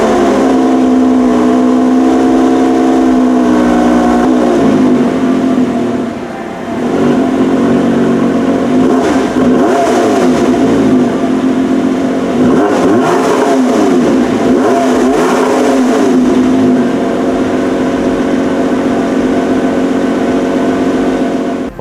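A Lotus Emira V6 First Edition with a 3.5 litre supercharged V6 revs repeatedly at a dealership in Johannesburg, loud and close, rising and falling through several blips with a brief dip between bursts.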